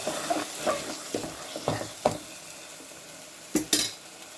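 Ground chilli and coriander masala sautéed on low heat in a pan, heard as a quiet sizzle broken by several clinking, scraping strokes of a spoon against metal, close by and with no voices.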